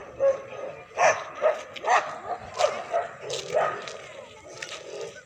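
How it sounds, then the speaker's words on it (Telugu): Stray dogs bark repeatedly on a street in Vijayawada, a steady run of sharp barks roughly every second, moderately loud and close, with background street ambience between them. "ఈ విధమైనటువంటి కుక్కలకు మీరు ఏం చేస్తారని అనుకుంటారు"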